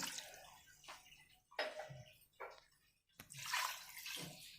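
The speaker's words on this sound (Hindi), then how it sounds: "ऑलमोस्ट मैंने पानी डाला है।" Water poured into a pressure cooker holding a goat head with whole spices, coming as a few broken splashing gushes with brief pauses between them, fairly close and moderately loud.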